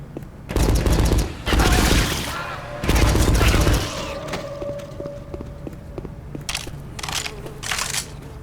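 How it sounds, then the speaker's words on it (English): Assault rifle gunfire in the Left 4 Dead video game comes in loud, rapid bursts of shots with short pauses between them, followed by quieter clatter and fainter scattered shots. "An assault rifle."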